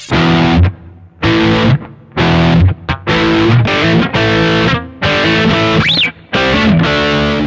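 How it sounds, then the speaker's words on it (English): Heavy distorted electric guitar power chords played in separate bursts, each ringing briefly and then choked off into short silences, loud and close. "So let's feel the power chords here."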